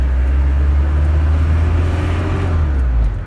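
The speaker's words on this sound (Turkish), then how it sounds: "Yani bir dizel motorun gürültüsü var." A Mitsubishi L300 van used as a plasterer's vehicle runs its diesel engine loudly up close, a deep, steady, rough drone held throughout before a brief drop at the very end.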